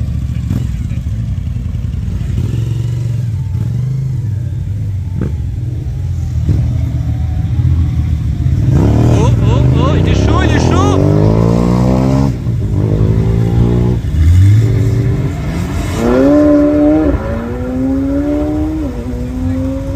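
Supercars, including McLaren 720S models, accelerate hard away from a Cars&Coffee meet in Luxembourg, with loud, close engines rising in pitch through their gears as one car after another pulls away.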